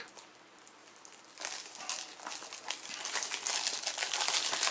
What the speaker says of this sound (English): And it's wrapped in plastic. Plastic is very easy to take off.